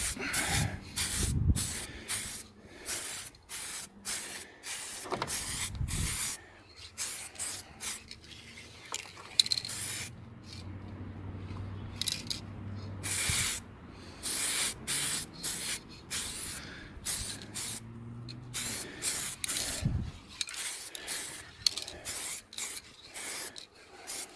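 Plastic primer sprayed from an aerosol can onto a part during a BF Ford Falcon ICC changeover, many short, close hissing bursts in a stop-start rhythm with brief pauses and faint handling noises between them.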